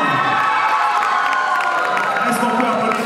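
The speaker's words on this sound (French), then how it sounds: "Est-ce qu'on peut applaudir très fort, s'il vous plaît?" A crowd at a beauty pageant, the Miss Côte d'Ivoire Belgique 2024 contest, cheers loudly and continuously with shouts and whoops over applause, a dense sustained roar filling the room.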